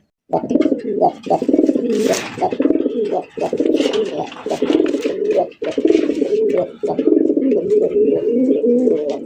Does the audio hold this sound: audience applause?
no